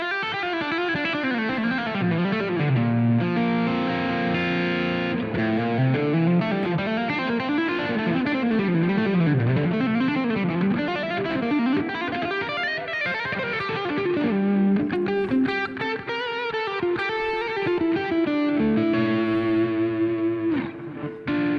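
An electric guitar plays melodic lines through an amplifier with distortion and modulation effects, continuous and up close, with sliding bends and sustained notes.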